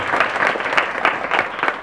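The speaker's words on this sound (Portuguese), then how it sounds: "E é para vocês que eu quero agora que vocês façam uma salva de palmas." An audience at a Christmas community social-action event bursts into dense, continuous applause, many hands clapping close together at a steady loud level.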